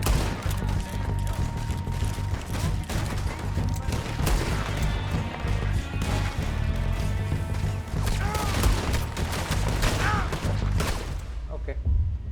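Gunshots in Red Dead Redemption 2 while fighting O'Driscolls, a long stretch of sharp, irregular shots and crashes at close range, with a voice talking over the gunfire before it fades out.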